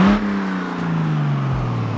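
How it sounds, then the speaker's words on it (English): A truck engine in a driving video game revs up in a long, smooth rise and sustained drone, fairly loud and close, with no talking. "Let's give her a couple revs."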